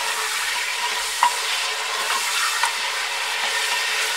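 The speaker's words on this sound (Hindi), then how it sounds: "इसको चलाते हुए फ्राई कर लेंगे हाई फ्लेम पर" Chicken pieces stir-fried over a high flame for chicken with bottle gourd: a steady loud sizzle close up, with a couple of brief spatula knocks and no voices.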